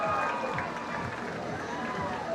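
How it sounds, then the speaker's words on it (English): Audience aboard a cruise ship applauding and cheering at a boat-building regatta, a dense, fairly distant wash of clapping and crowd noise that continues steadily throughout. "Give them a round of applause"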